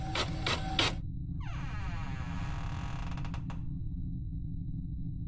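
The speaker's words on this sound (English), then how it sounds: "That my printer?" A printer in a spooky video game whirs and ratchets: three quick mechanical clicks, then a sweeping, juddering feed sound that rises and stops abruptly over a steady low drone.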